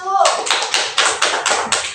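Primary school pupils in a classroom clap their hands in a quick, fairly regular rhythm of about eight sharp, close claps. A voice speaks just before the clapping begins.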